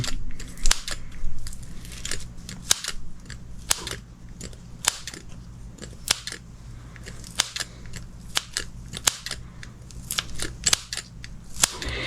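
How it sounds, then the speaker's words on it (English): Scissors cut repeatedly through melted plastic into small chunks, making sharp close crunchy snips in an uneven rhythm with short gaps between them, over a quiet background hum and with no voices. "I'm gonna just cut some of these chunks up in here."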